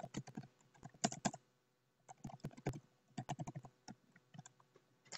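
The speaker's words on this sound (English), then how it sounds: "now you type in the words" Rapid typing on a computer keyboard, close and crisp, in two dense bursts of keystrokes separated by a short pause, with no talking.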